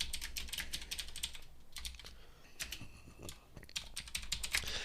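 Rapid clicking on a computer keyboard as Python code is typed, bursts of close, quiet keystrokes with short pauses between, no talking.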